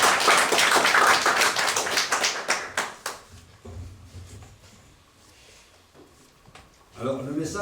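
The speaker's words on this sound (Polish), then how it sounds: "je crois qu'on pourrait tous applaudir le Seigneur" A church congregation bursts into dense, loud applause that lasts about three seconds and then breaks off into scattered claps, with quiet murmuring after and a voice speaking at the end.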